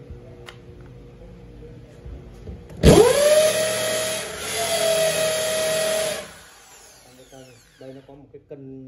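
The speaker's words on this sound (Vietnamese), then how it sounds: "chuyển nắp sang khoan bê tông đây nha" A 220V electric drill set to concrete drilling mode spins up abruptly and runs with a steady, loud whine for about three seconds, then winds down, with faint talk before and after.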